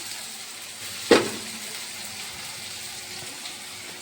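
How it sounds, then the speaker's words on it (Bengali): Eggs and onions frying in a pan with garlic, a steady soft sizzle throughout and one brief sharp clatter near the start, no voices. "ডিম ভাজাভাজি হচ্ছে এই যে ডিম দেখো মশলা মানে পেঁয়াজ পেঁয়াজ ভাজা হচ্ছে"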